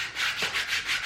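An abrasive cleaning stick rubbed back and forth across a 150 grit sanding pad to clear out stuck residue, giving about five quick, even, close scrubbing strokes in steady rhythm.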